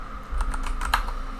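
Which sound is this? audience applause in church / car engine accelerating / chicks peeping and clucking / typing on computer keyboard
typing on computer keyboard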